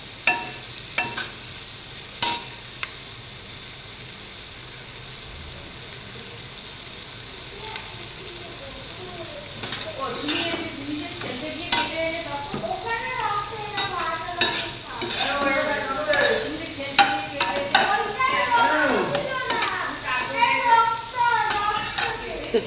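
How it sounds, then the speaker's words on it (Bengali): Chicken frying in a pan while being stirred, with a steady sizzle under repeated scraping and clattering strokes that grow busier and louder in the second half. No one speaks. "তো হালকা এগুলো ভেজে নিয়ে আর চিকেনটা এর মধ্যে আমি দিয়ে দেব।"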